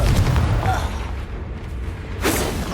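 Confringo fire spell in Hogwarts Legacy bursting with a deep booming blast and rumbling roar that fades, then flares again briefly near the end.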